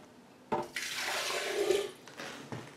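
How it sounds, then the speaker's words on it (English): One cup of water pours into a blender jar in a short, splashing gush that starts abruptly, runs for about a second and a half and ends, with a soft knock at the close. "We'll add one cup of water to each one of the blenders."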